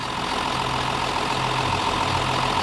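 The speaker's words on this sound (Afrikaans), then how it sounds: "Hier kry Piet hulle die trekker gestart" A diesel tractor engine idles just after starting, giving a steady, close, low mechanical rumble with a constant drone and no talk over it.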